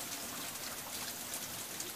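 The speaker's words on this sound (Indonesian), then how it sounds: "Nih, hujan." Rain pours steadily in a dense, even hiss outdoors near a house, with no pauses and no voices over it.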